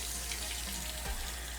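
A tap runs steadily as a makeup brush is rinsed under it, a close continuous splashing wash of water with a brief thud partway through.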